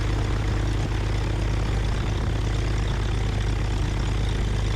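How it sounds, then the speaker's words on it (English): Propeller aircraft engine idling on an airport FBO ramp, a loud steady droning roar with an even pulsing hum, close by and constant, no talk. "Aircraft running on the FBO ramp"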